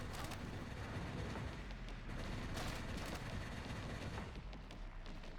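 Distant rattling gunfire and booming blasts in a shooter video game, a dense, steady, muffled barrage with occasional sharper cracks and no speech.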